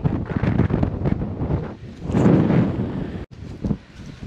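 Strong wind buffets a microphone outdoors in a steady rough roar with gusts, close and loud, and a brief dropout near the end.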